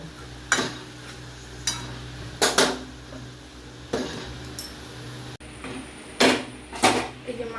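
Rohu fish curry with carom seeds gets stirred in a pot and then covered with a lid. About half a dozen sharp metallic clanks and scrapes sound up close, spaced irregularly over a low background hiss.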